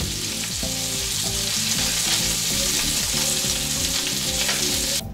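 Italian meatballs browning in a frying pan, a loud continuous sizzle of hot oil under a steady bed of music, close and unbroken, with no talk.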